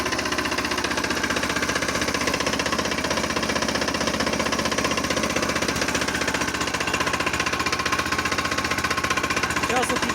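A Motor Sich D-250 engine runs steadily and loudly close by, with a continuous knocking, vibrating drone that holds an even rhythm throughout without letting up.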